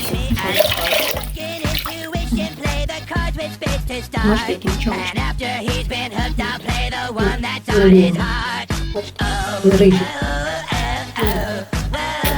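A household tap runs steadily, splashing and gurgling into a basin at close range for the whole stretch, with uneven bubbling surges and no talk over it.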